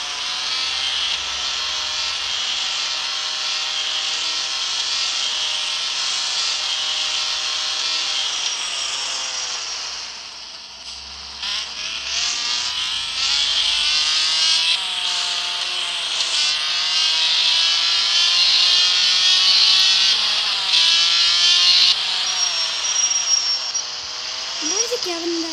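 A classic car's engine in a driving simulator game, a sustained high-revving whine that climbs and holds at high RPM, with a brief dip before it rises again, loud and steady throughout.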